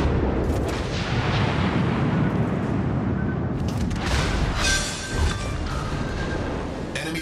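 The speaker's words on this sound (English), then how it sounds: "Enemy destroyer blown up." An enemy destroyer blowing up in World of Warships: Legends, a loud sustained roar of explosions and booming fire with rumbling debris and crackle throughout.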